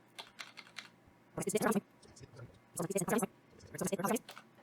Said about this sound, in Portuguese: se eu clicar algumas vezes sobre o J do teclado